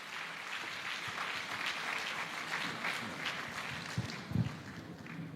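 Sustained audience applause fills a convocation ceremony hall, a steady broad wash of clapping from many hands with a couple of louder bursts near the end.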